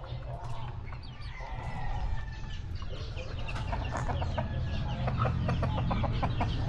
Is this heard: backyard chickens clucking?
yes